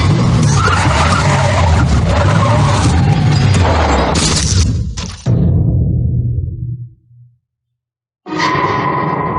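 A car skids with loud, sustained tire squeal and roaring engine, ending in an abrupt crash impact, then a short stretch of silence before more noise resumes.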